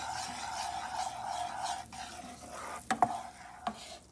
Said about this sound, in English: Continue stirring it from the edges, otherwise the mixture which is stuck to the edges might burn.